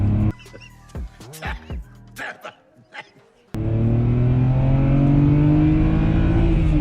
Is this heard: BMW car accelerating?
yes